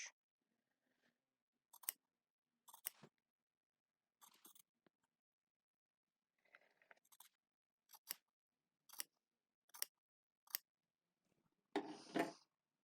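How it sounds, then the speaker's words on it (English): Scissors trim a fabric seam allowance down for a hand-sewn flat fell seam: quiet, close snips and crisp crunching cuts arrive in irregular clusters with pauses between them, and nobody speaks. "I want to go ahead and cut that down to about 1/8 of an inch"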